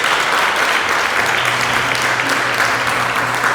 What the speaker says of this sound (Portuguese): Quero convidar você a aplaudir essa palavra